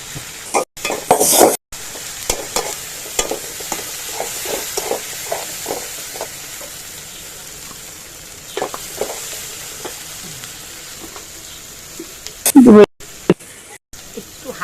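Onion frying in a pan, with dried and green chilies added, gives a soft steady sizzle under intermittent scraping stirs and clinks of a utensil, while someone talks over the cooking.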